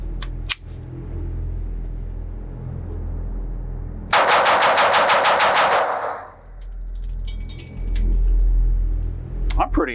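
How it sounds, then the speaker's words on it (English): Rapid string of shots from a Browning Black Label 1911 pistol in .22LR at a shooting range, roughly a dozen evenly spaced sharp cracks fired in quick succession over about two seconds, loud and close, followed by a quieter background with faint rustling. "I'm kind of curious how fast I can shoot this thing."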